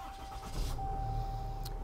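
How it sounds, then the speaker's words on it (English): Truck engine starting, a brief crank that catches and settles into a low, steady running rumble, nearby and moderately loud, with a steady tone in the background. "First step I'm gonna do is I'm gonna start the truck."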